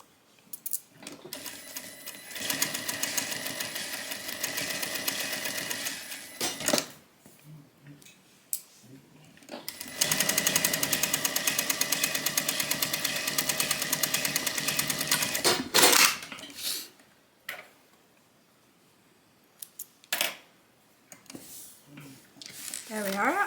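A sewing machine back stitches a tote bag seam at a quarter-inch allowance, running in two long steady bursts separated by pauses, with shorter rattles and handling noises afterward.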